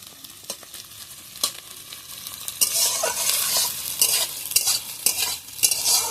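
Spice paste sautéed and stirred in a pan for a soybean and potato curry, with irregular scrapes and clinks of the spoon over a rising sizzle, close and with no voices.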